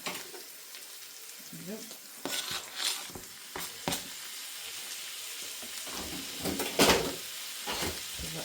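Bacon sizzles and spits in a hot pan as the base for a bacon and mushroom risotto, a steady close fry broken by scraping stirs and a brief spoken remark.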